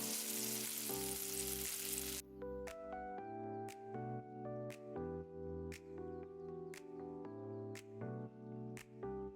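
Chopped onions frying in hot oil with hing and methi seeds for a jackfruit curry, a bright crackling hiss at first that eases into a softer, steady sizzle under a repeating tonal backing.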